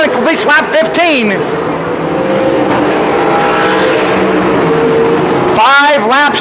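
Wingless sprint cars race around Calistoga Speedway with a loud, steady engine roar that fills the whole stretch, while an announcer talks excitedly over it at the start and end.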